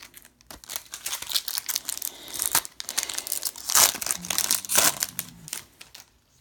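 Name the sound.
Yu-Gi-Oh booster pack wrapper crinkling as it is opened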